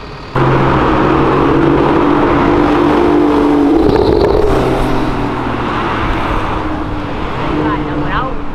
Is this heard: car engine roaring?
yes